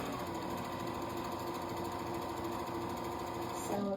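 Close up, a sewing machine stitches a pillow in a steady, fast, even whir that cuts off abruptly near the end.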